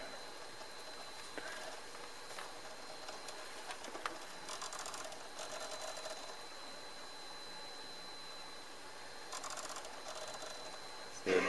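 An original Xbox console runs with its dusty, crusty disc drive spinning and reading a game disc, making a steady, faint mechanical whir with light clicks and brief louder bursts of drive activity.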